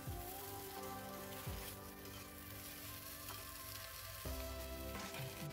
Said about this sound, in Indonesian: Ini saya aduk kembali sampai semuanya tercampur rata.